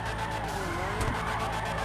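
An Annis ZR350 drifting in GTA Online gives a continuous, loud tire squeal layered over a steady engine drone, holding without a break for a couple of seconds with no voices.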